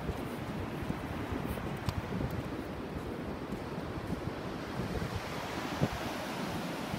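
Ocean waves washing in steadily at the sea in the morning, a continuous broadband surf roar mixed with wind buffeting the microphone, with no talking.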